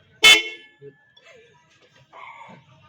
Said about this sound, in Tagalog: Isang teknik lang po para tumunog na magandang ating busina.